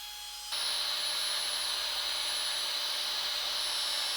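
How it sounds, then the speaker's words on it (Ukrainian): A Flextail Zero electric air pump switches on after a brief quiet moment and runs with a steady, even whooshing hiss that holds constant until the end. "флекстейл працює помітно тихіше за гігапамп"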